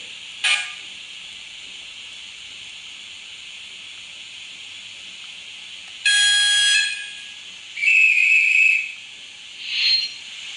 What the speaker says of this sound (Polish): Piękny gwizdek.